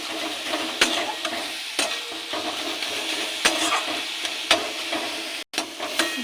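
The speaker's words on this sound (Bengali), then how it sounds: "এটাকে ভালো করে এবার একটু ভালো করে ভেজে নেব।" Banana stem fries in a pan with tamarind, giving a steady sizzle and hiss broken by several sharp clinks of a spatula stirring against the pan. No one talks.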